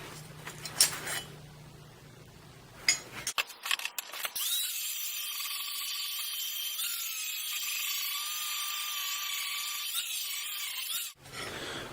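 Power grinder shaping forged hedge trimmer knives, a few clanks and scrapes first, then a sustained loud high-pitched grinding whine of abrasive on steel, steady for several seconds before cutting off.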